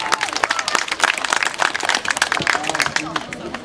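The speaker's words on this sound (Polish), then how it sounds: "Jeszcze raz wielkie brawa dla Marty." A stadium crowd at an American football game in Bydgoszcz applauds and claps steadily, a dense continuous roar of hands throughout, fairly loud, with a commentator's voice faintly running underneath.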